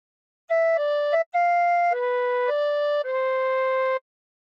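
A tin whistle plays a short phrase of Oh Christmas Tree, six clear sustained notes in a row with a brief gap after the third, bright and close with no talk.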